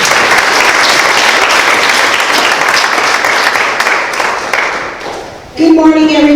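Loud, dense audience applause fills a Fountain Hills Chamber of Commerce event, sustained for several seconds before fading as a voice begins speaking at the end.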